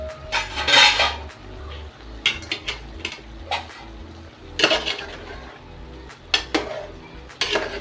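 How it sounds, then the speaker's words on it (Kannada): Steel plates and pots clank and clatter in a home kitchen making chicken gravy as a plate is set over the cooking pot as a lid, a series of metallic knocks and scrapes over a low background hum. "ಈಗ ಸ್ವಲ್ಪ ಹೊತ್ತು ಮುಚ್ಚಿಡಣ್ರಿ ತಾಟ"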